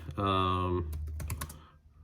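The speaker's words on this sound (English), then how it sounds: "She can hear me typing to look this up." Fingers typing on a computer keyboard in a quick burst of clicks right after a sustained tonal sound, close and fairly clear, with no speech over it.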